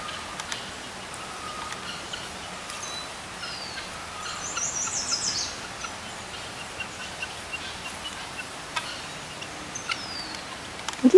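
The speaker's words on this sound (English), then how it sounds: "I think it's a turkey." A young turkey outdoors in a chaparral dell, giving a brief, faint gobbling call in the middle of a quiet natural background, with scattered small bird notes and a few clicks.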